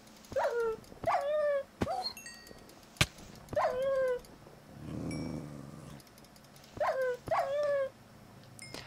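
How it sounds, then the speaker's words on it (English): Dogs in the Minecraft video game give a series of short yips and barks in quick pairs, separated by pauses, with a soft low rumble in the middle. "Alright, so those were dogs."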